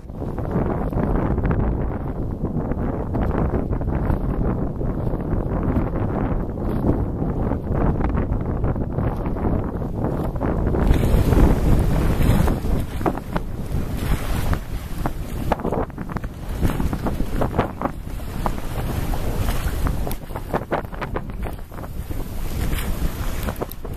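Steady wind rushes across the microphone over the hiss and slap of water along a sailboat's hull, sailing close to the wind in a freshening breeze on Long Island Sound, continuous and fairly loud throughout, with no talking.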